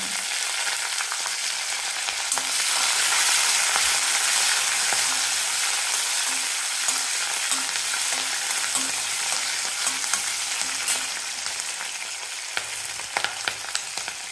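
Lentils and green chilies roast in hot oil with a steady, crackling sizzle and occasional stirring scrapes, close and continuous, with no one talking.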